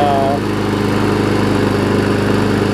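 An older Murray 4 hp lawn mower engine, recently fitted with a new pull rope, runs steadily at a throttled-down idle with a continuous close, loud mechanical drone and faint vibration.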